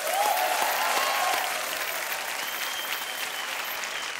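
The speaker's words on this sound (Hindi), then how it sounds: "तालियां" A studio audience applauds on a Hindi TV game show hosted by Salman Khan. The clapping is dense and sustained, a little louder at first and then slowly tapering, with faint background tones.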